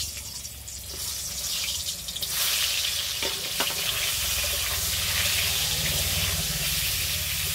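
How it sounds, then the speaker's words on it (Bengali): Pointed gourd coated in salt, turmeric and a little chili powder fries in a pan, a steady close sizzle that swells louder partway through with a few stirring clicks, and no talking. "পটলগুলো এবার আমি ভেজে নেব।"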